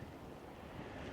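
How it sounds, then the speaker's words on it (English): Steady wind buffeting a microphone in open Arizona desert along a backpacking trail, a continuous low rumbling roar that swells slightly toward the end, with no voices. "Excuse the wind."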